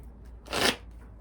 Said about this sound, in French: On va prendre quelques cartes de l'oracle du masculin